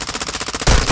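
Rapid automatic gunfire in Call of Duty: Modern Warfare II, a fast steady rattle of shots ending in a louder, heavier blast.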